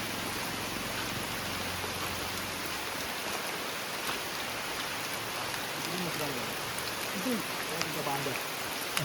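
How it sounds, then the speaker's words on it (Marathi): Steady rain falls outdoors near a small stream on a walk in the Malvan area, a continuous broadband wash of drops close by, with faint voices briefly audible in the background. "छान पाऊस पडतो आहे आणि चाललेलो आहोत आपण."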